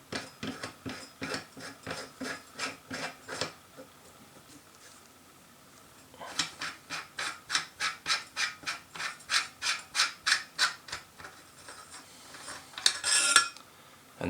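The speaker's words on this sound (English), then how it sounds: "And then you just unthread the loudener." Threaded muzzle loudener being unscrewed from a Nuprol Delta airsoft gun barrel, giving close, quiet rhythmic scraping and ratcheting clicks in two runs of steady, repeated turns.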